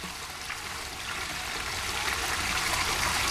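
Steady rushing water from a waterfall at a swimming spot fills the scene with a continuous broadband wash that grows slightly louder and sounds fairly close.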